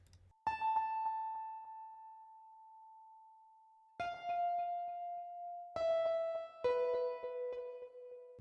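Piano from a dark hard rock beat built in FL Studio, a few sustained struck notes ringing alone with long decays, one tone held for several seconds before later chords enter, clear and moderately loud.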